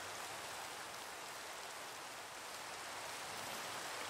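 Steady rain pours down in the Minecraft video game, a dense, even hiss that holds at a constant level throughout with no voices over it.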